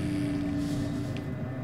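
Honda Jet taking off in Microsoft Flight Simulator, a steady, loud engine roar with a droning hum that holds evenly and alone throughout.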